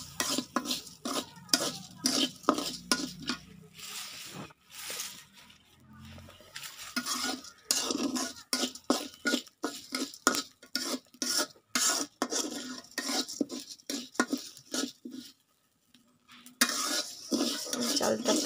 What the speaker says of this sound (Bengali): চালটা প্রায় ভাজা শেষ পর্যায়ে